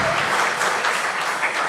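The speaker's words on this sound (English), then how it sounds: "I think we deserve a bigger round of applause" Audience applause at a youth conference event: dense, steady clapping from a large crowd, loud and sustained throughout with no pauses.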